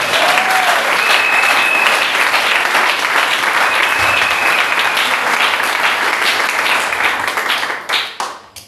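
A church congregation applauds continuously with dense, close clapping for several seconds, fading out at the end.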